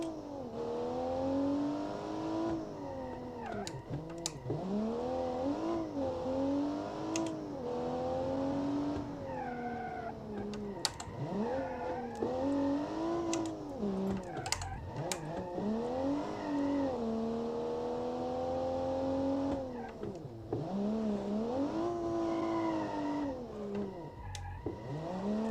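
A BMW-styled 1990s family car built in Automation is driven in BeamNG, its engine droning and revving up and down through repeated gear changes, with brief clicks and bumps over a long continuous run.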